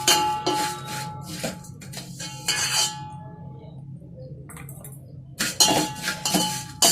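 Dry vermicelli (semiya) roasting in a metal pan for sweet payasam, heard as repeated scraping and clinking of a spatula against the pan in irregular bursts with brief quiet gaps, close and fairly loud, no talking.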